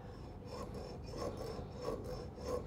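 A small hand saw rasps in short rhythmic strokes against a Thai takrut amulet, close and fairly quiet, with no talk over it.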